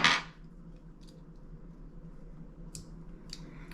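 Cutting the sheathing off a battery cable: a sharp snip at the start, then quiet low hum with a few faint clicks and brief scraping cuts later on.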